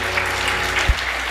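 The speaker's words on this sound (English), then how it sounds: "Can we give Mili a huge round of applause for what she's been doing so far?" Audience clapping at a Bharatanatyam dance recital, a short, steady burst of applause with a low thump partway through.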